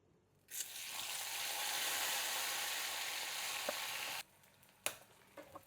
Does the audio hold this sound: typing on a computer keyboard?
no